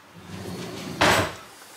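A drawer in a workshop slides open with a sudden sharp rattle and scrape after a low steady rumble, heard close and alone.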